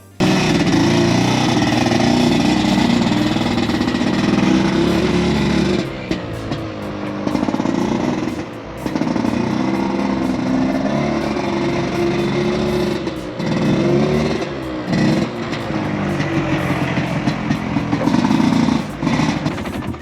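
A motorbike engine runs loud and steady throughout as it is ridden down a residential street, with a few brief dips and rises in revs around the middle and a gritty, buzzing drone the whole time.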